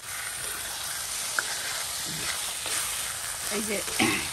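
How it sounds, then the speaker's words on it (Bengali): Shrimp fry in a spiced masala in a village-style kitchen, giving a continuous close sizzle broken by a few clicks and stirring scrapes toward the end. "এখন আমি চিংড়ি মাছ কটা দিয়ে দেবো। এই যে চিংড়ি মাছ কটা দিয়ে ভালো করে কষাই টসাইয়া তবে রান্না করে নেবো।"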